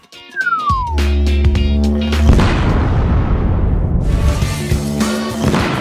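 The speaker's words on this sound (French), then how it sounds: "cette explosion était encore plus énorme à quoi je m'attendais" A descending whistle gives way to a huge booming blast with a long rumbling, crackling tail, loud and close, with no voices.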